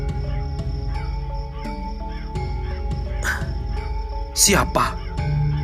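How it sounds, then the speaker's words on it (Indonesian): A crow caws harshly a couple of times near the end, as if from a rooftop ridge, over a steady musical backing with someone speaking. "tiba-tiba terdengar burung gagak di wuwungan melengkingkan teriakannya."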